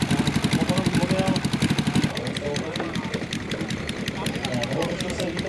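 A motor-powered model airplane engine runs at an air show, a steady rapid buzzing with a pulsing rhythm, moderately close, while people talk over it.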